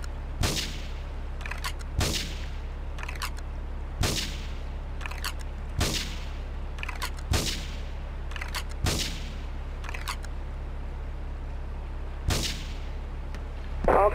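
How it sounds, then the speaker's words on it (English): Gunfire in the GTA III video game, sharp isolated shots spaced roughly every second or two over a low steady hum, fairly quiet overall. "Investigate reported gunfire and explosion"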